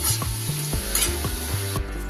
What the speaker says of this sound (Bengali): আলুগুলো আমার বেশ লাল লাল ভাজা হয়ে গেছে। এবার আমি আলুগুলো তুলে নিই।